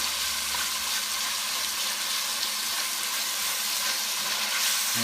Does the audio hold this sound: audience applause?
no